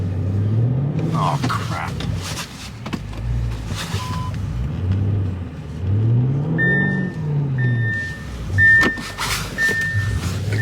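An all-wheel-drive car on summer tires turns around in deep snow during a severe winter storm, its engine rumbling and revving unevenly with bursts of wheel strain, while a person speaks briefly over it.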